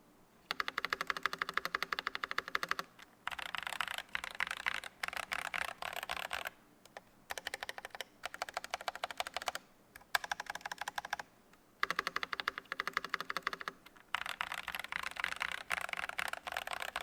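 Steady typing on a stock budget TKL custom mechanical keyboard, dense clacky keystrokes in bursts with short pauses between, close and fairly quiet, no talking.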